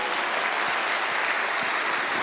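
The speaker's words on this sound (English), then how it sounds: "let's start with an applause for all the panelists this morning" A conference audience at a G7 ICT and Industry multistakeholder event applauds the morning's panelists, a steady, full wash of clapping throughout the short stretch.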